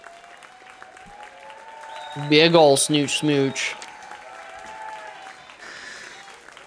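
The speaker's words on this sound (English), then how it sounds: "Behind me, I can hear the audience's cheers grow louder." Audience cheering and applause in the visual novel game Snoot Game swell for about a second and a half under a spoken voice, then fade back beneath continued talk.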